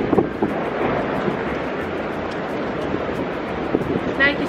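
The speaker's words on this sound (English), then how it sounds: "it's so windy here" Steady gusty wind in New York City buffeting the microphone, a dense low roar throughout with brief bumps of louder rumble.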